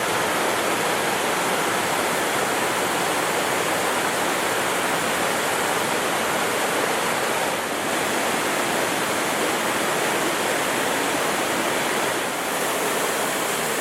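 Sam's Creek in the Great Smoky Mountains rushes steadily, a dense, continuous roar of flowing river water close by, with no voices.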